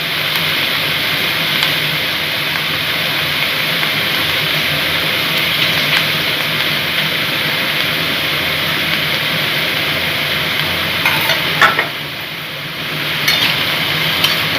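Chopped bottle gourd sizzles in a hot pan while being stirred for a Bengali lau ghonto with moong dal, a steady broadband frying hiss running throughout with a few brief scraping clatters near the end.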